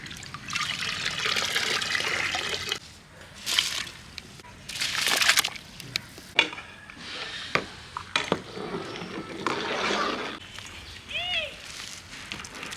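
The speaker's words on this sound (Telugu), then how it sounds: "ఎసరైతే బాగా మరిగిపోయింది మామ. దాంట్లోకి మనం నానబెట్టుకున్న బియ్యాన్ని వేసుకుందాం." Soaked rice pours into a pot of boiling water for egg biryani, with trickling and sloshing water in bursts, some clatter, and a voice talking now and then.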